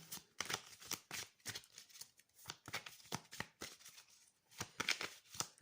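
Oracle cards being shuffled by hand in quick, papery riffles and slaps, close and crisp, coming in uneven bursts with short pauses between them.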